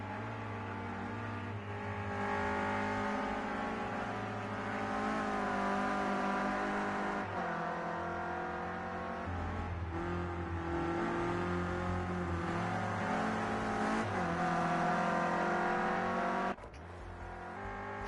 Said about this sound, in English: A lot of the drivers really throwing the car into that first corner.